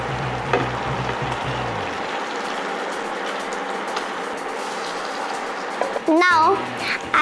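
Gnocchi frying in a pan of simple butter sauce, a steady soft sizzle that drops lower after a couple of seconds, with brief stirring clinks and a short loud squeal near the end.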